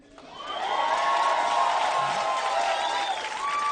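At a New York comedy show, a live audience breaks into sustained applause that swells within a second, mixed with some cheers and whoops.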